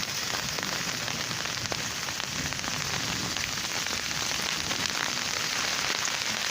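Heavy rain falls in Thoha Khalsa, a dense, steady hiss of downpour on surfaces that stays loud and unbroken throughout, with no voices.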